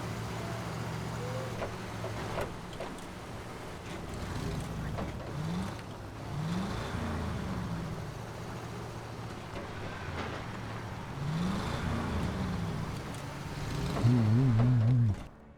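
Truck engine in the SnowRunner video game, a low rumbling drone that rises in several short revs and swells louder near the end, heard fairly close at moderate volume.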